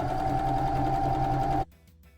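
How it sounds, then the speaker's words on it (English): A sewing machine stitches steadily around a fabric rectangle for a treasure bag, a close, even mechanical hum that stops abruptly near the end. "All right, now I'm just going to keep sewing."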